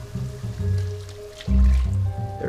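Pork rib sauce and added water being stirred together in a pot, giving close, wet sloshing and squishing pulses in a steady rhythm, loud and alone.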